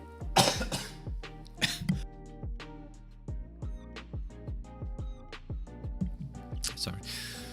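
A person with a lingering illness coughs several times in hoarse bursts near a microphone during a live game-development stream, and faint background sounds tick along between the coughs.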